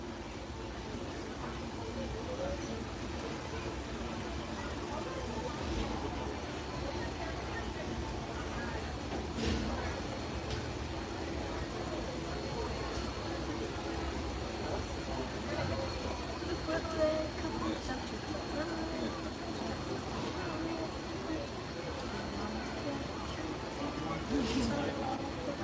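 A Disneyland Railroad steam train runs steadily through the whole stretch, a continuous rumbling clatter with faint bell or whistle touches, mostly alone and at moderate level.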